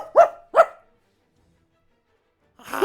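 A person imitating a dog, two quick gruff "woof" barks close to the microphone, then silence before a brief burst of noise at the end.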